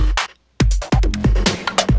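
An electro drum beat loop from the Logic Pro stock library plays solo, with punchy kick thumps and short bright hits in a choppy rhythm, starting after a brief gap of silence, loud and alone.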